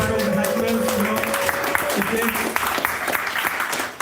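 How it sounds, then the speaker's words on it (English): A comedy-competition audience claps and cheers loudly for the comedians, a dense continuous roar of applause with voices calling out through it, fading at the end. "Just give a big cheer for all the comedians there."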